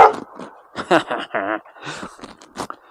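A person's voice imitates a dog barking at a dog, giving several short, loud, rough woof-like bursts in an uneven rhythm close to the listener.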